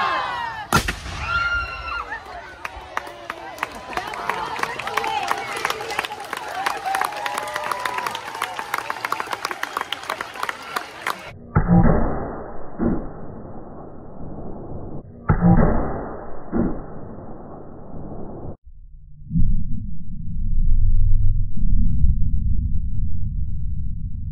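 Old-fashioned 1860s-style aerial fireworks at a historic farm celebration: a whooshing launch, then a long run of crackling pops and bursts, later thinning into muffled booms.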